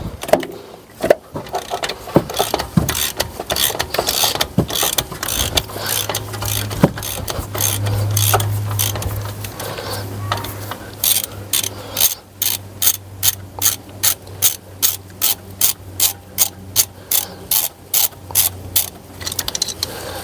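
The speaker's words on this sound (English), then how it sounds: "Undo it and then hold it, the 17mm spanner, so it doesn't spin." Rapid ratchet clicking from a wrench undoing a brake caliper bolt on a 2017 Mercedes E220, with bursts of metallic turning then a long regular run of sharp clicks, close and loud with no talk.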